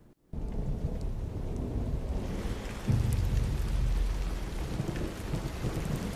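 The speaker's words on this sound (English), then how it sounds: "Oh, what a horrible day for rain." Heavy rain and rolling thunder in a Squid Game episode: steady loud downpour begins abruptly, with a deep rumbling thunder swell building midway under the constant hiss of rain.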